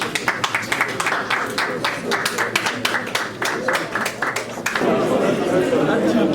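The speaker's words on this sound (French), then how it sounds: "On applaudit pour l'artiste." A press-conference audience claps for the artist, sharp scattered hand claps over chatter that swell into fuller, continuous applause near the end, with voices talking throughout.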